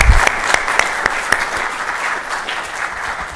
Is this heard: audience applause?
yes